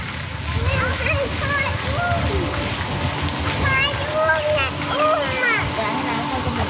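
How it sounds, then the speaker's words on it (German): Children splashing and playing in the Dusit Grand Park hotel swimming pool: steady watery splashing and sloshing with high children's voices calling and chattering throughout, busy and fairly loud. "schauen wir den Kindern ein bisschen beim Planschen nach zu"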